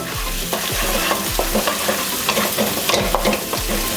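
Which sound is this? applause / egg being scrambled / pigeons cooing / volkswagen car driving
egg being scrambled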